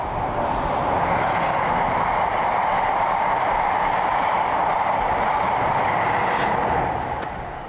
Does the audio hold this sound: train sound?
yes